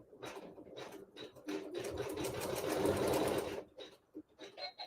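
A sewing machine stitches a hair tie in a steady run of rapid mechanical whirring that builds, holds for a couple of seconds and stops, with a few short clicks around it, close and fairly quiet.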